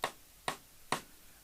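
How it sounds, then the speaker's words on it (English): Three cross-stick strokes on a snare drum rim, each giving a dry, woody click like a wood block, evenly spaced about half a second apart, crisp and close with nothing behind them. "you can see it creates this kind of wood block sound"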